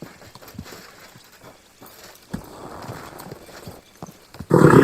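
Horse hooves clip-clopping in the medieval video game Kingdom Come 2, a quiet irregular run of hoofbeats on a path, with a snort and a louder burst of movement at the end.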